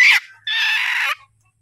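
Two short bursts of chicken calls, a quick squawk and then a longer, louder call, clear and close with silence after.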